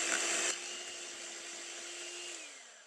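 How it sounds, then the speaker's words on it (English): An electric mixer's whisk beats vanilla buttercream, a steady close motor whine that starts with a louder burst and then drops to a lower hum before winding down at the end. "you can attach the second whisk and then keep beating."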